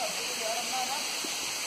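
Seven Wells Waterfall in Langkawi pours steadily, a dense broadband rush of flowing water filling the short stretch, with a faint voice beneath it.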